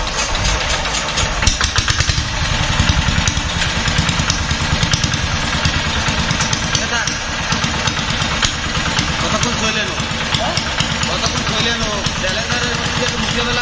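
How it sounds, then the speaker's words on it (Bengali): A newly fitted engine on a CD175 motorcycle runs at a steady idle close by, with a continuous rhythmic throb and a faint mechanical rattle. "নতুন ইঞ্জিনের মতন সাউন্ডটা হলো কি না"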